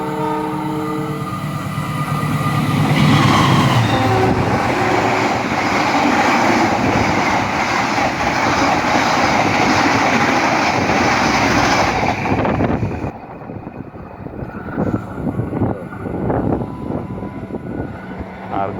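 Argo Semeru train rushing past at Pegadaian Baru station in Indonesia, a loud sustained roar of wheels and carriages with a horn blast, close by, then cutting to quieter rhythmic rail clatter.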